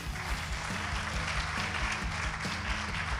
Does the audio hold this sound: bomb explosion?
no